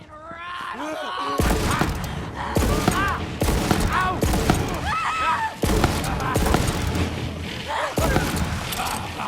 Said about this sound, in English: And I got this pistol now, the Torg. Okay, let's try that one for a little while